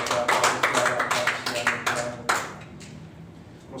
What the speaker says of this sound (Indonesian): Mari kita beri tepuk tangan untuk memuji, memuliakan nama Tuhan saat Asa maju ke depan